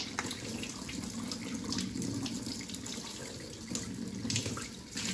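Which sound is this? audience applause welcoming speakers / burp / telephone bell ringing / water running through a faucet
water running through a faucet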